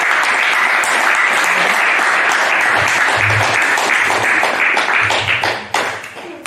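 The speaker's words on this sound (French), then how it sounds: "On l'applaudit." A church congregation applauds a woman called up to speak, dense lively clapping close and loud throughout, with a few sharper hand claps standing out before it tapers off near the end.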